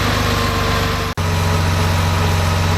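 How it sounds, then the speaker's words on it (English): A Porsche engine with C.I.S. fuel injection idles steadily and loud up close, with an even low rhythmic pulse, a brief dropout near the middle, and no voices. "our engine started right up, didn't need any throttle"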